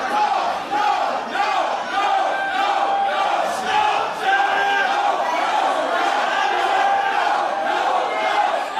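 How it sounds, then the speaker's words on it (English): The crowd at a GWF wrestling event reacts with loud, sustained jeering and chanting, a dense wall of voices that rises and falls throughout. "The crowd don't like what they think Doug Williams is about to offer."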